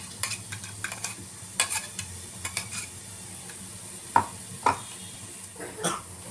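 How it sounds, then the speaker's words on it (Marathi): Finely ground green masala is lightly fried in oil in a pan, with a quiet sizzle beneath repeated spatula clinks and scrapes against the metal, a few sharper knocks standing out. "एका पॅनमध्ये मी तेल टाकले आहे आणि आता त्याच्यामध्ये हे मिक्सरला बारीक वाटलेलं सर्व थोडंसं हलकं भाजून घेणार आहे."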